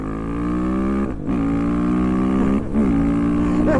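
A supermoto motorcycle accelerating hard through the gears, its loud buzzing engine note climbing, dropping briefly at two shift points, then climbing again, close by with no talk.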